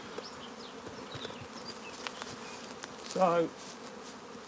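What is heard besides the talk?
honeybees during a nuc transfer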